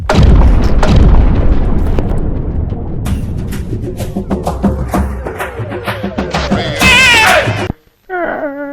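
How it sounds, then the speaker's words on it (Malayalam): A loud firecracker bang opens during Vishu festival celebrations, followed by rumbling echoes, crackles and scattered pops, with a rising whistle-like whine near the end and a brief silence. "എന്തിനാ ആളുകൾ പടക്കം പൊട്ടിച്ചേ"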